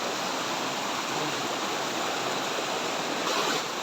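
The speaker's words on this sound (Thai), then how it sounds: "เรามาถึงน้ำตก เป็นที่เรียบร้อยแล้วทุกคนนะนี่สวยมากครับน้ำตก" A waterfall and stream pour steadily beside a campsite, a dense, even rush of water filling the whole stretch at close range with no voices.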